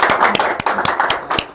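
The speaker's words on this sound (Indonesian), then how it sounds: "Boleh tepuk tangan." An audience claps for a guest speaker at a talk, a loud close burst of individual hand claps with sharp separate strikes over a dense patter, ending abruptly.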